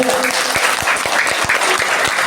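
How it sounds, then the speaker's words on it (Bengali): Loud, dense applause from a crowd at an annual function, many hands clapping steadily and close, with a voice faintly audible at the start. "জোরে হাততালি হয়ে যায়"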